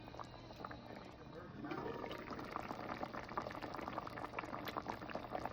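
Snook fish curry bubbling in a pot, a steady busy boil that swells in intensity after a couple of seconds and keeps popping and gurgling close up, with no talk over it.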